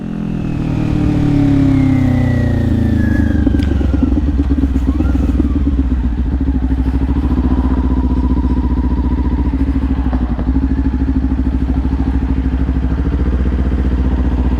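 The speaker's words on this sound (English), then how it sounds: "We're back on the bike." A motorcycle rides through city streets at dusk, its engine droning loud and steady up close with rising and falling pitch as it accelerates and shifts, under steady rushing wind noise.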